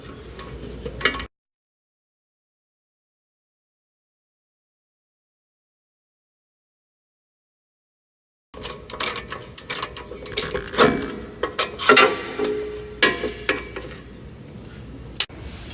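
Two 15 mm brake caliper bolts on a 1994-1998 Mustang GT are spun out with a ratchet, a brief clicking at first, then a gap of silence, then several seconds of close, irregular ratcheting clicks and metal handling.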